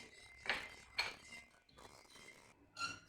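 A spoon clinks against a metal pot while salt, black pepper and red chili powder are stirred into a sauce for stuffed mulberry leaves, giving three or four sharp, close knocks separated by quieter scraping.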